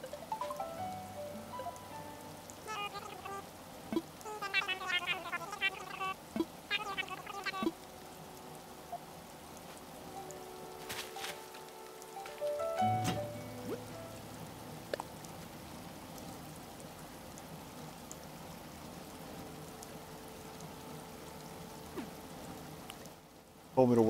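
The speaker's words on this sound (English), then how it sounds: "Oh good, it's raining" Soft, steady rain falls in Animal Crossing: New Horizons, a faint wash under game chimes and tones, with someone talking intermittently.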